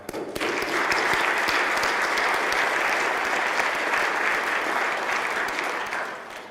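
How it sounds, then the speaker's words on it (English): An audience at a United Way volunteer-of-the-year ceremony breaks into loud, even applause that starts abruptly and holds steady as a thick wash of clapping before easing slightly at the end. "You deserve my applause because you do remarkable work"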